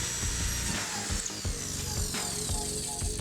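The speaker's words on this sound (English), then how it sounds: "I drill matching holes in the seat rails and gunnels." Power drill boring holes through wooden seat rails and gunnels for a cedar strip canoe, a steady close whine with repeated short bursts and ratcheting clicks, no talking.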